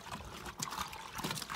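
Water pouring and trickling for washing clothes, a steady liquid splash with brief surges, close by and without voices.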